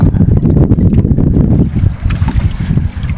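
A strong south wind at sea roars in a steady, loud rush and buffets against the microphone, with a low rumbling howl and no voices.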